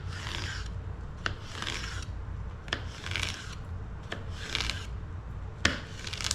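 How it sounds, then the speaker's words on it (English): Fillet knife slicing crossways through an edible cactus pad, with rhythmic raspy cutting strokes and occasional sharp clicks against a board, close and steady with no talking. "So I've got this fillet knife, and that's cutting right through it."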